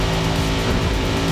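In Forza Motorsport, a GT race car on soft tires at Sunset Peninsula is pushed hard, its engine roaring loud and continuous, with dense, gritty mechanical noise throughout.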